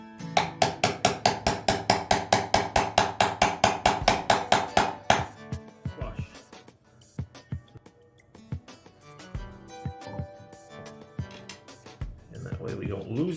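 A brass hammer taps guitar ferrules down into a DIY JEM guitar kit body: a quick, even series of sharp metallic taps up close, then scattered lighter knocks and handling sounds while a person talks.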